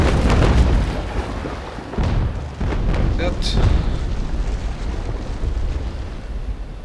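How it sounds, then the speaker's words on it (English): Heavy booming sailing-ship cannon blasts fire repeatedly in the game Naval Action, deep thuds with rumbling tails, while someone talks over them. "We can shoot him with the rear cannons too."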